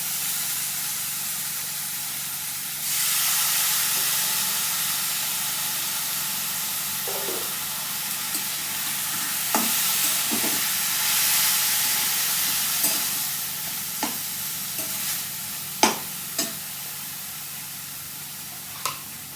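Boiled banana flower sautéing with turmeric and spices in a pan, a continuous close sizzling hiss with occasional sharp spatula taps and scrapes against the pan.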